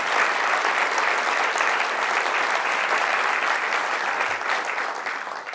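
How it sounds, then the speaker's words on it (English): Audience at a seminary gathering gives a loud, sustained round of applause, dense continuous clapping that fills the whole stretch and only begins to ease at the very end. "Give him another great big round of applause."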